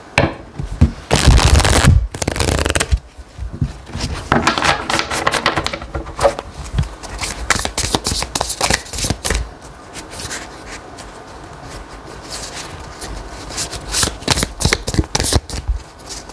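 Tarot cards are shuffled close up, producing dense riffling flutters and rapid papery slaps in continuous bursts, loud at first and then steadier, with no talking.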